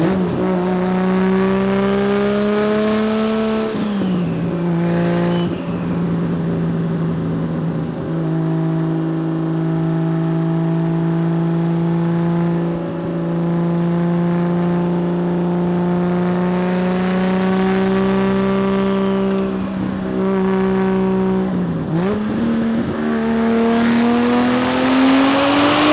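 A turbocharged 1978 Datsun 280Z engine pulls hard through the revs from inside the car, rising tone dropping sharply at each gear change, loud, close and steady with no talking.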